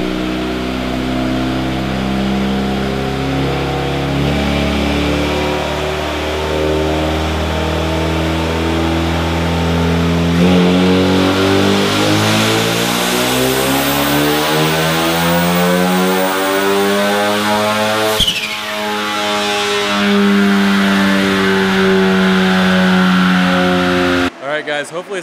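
Ecoboost Mustang with a Comp 5858 drop-in turbo making about 500 whp roars loud and close through a dyno pull, engine tone climbing steadily in pitch as it winds up, then cutting off abruptly near the end.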